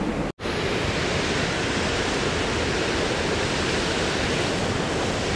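A small river rushes in a steady, loud, broadband roar of churning water, broken only by a brief dropout near the start.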